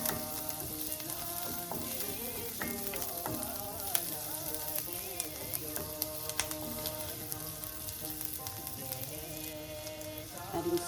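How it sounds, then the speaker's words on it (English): Garlic sautéing in a Le Creuset pot, a steady crackling sizzle with scattered pops and light stirring scrapes, close and fairly quiet throughout, no voices. "Saute the garlic until it's like a little bit light brown in color."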